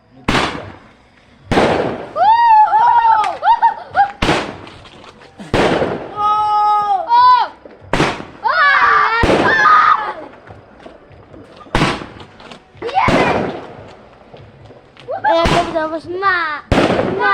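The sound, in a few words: explosion, fireworks or firecrackers going off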